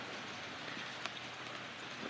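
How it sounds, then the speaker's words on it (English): Steady rain falls outdoors as a constant broadband hiss, moderately faint, with a few brief louder drop impacts and no talking. "I've never done a video in the rain before."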